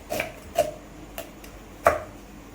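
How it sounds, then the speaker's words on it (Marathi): A knife chops onion on a board at home, four separate sharp knocks spaced unevenly over a couple of seconds, close and fairly clear against a quiet background. "असा कांदा कापून घ्यायचा"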